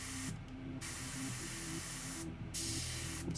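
Bursts of paint from a spray can or airbrush hiss steadily while lava bases for Age of Sigmar miniatures are painted, broken by two short pauses, close and continuous, with a faint hum underneath.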